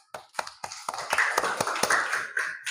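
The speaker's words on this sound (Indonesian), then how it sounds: "Iya, luar biasa. Tepuk tangan." Primary school pupils in a classroom clap their hands together, starting with a few scattered claps and swelling into a brief round of applause close to the microphone.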